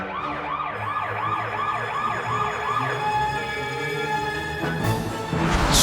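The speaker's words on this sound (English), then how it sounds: "Police car." Close, loud police car siren in a rapid rising-and-falling yelp that repeats several times, then settles into a steadier tone over engine rumble before a noisy burst at the end.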